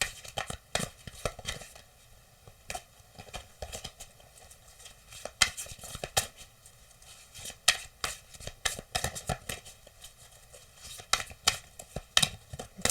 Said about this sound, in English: This came out before, so I'm going to keep shuffling.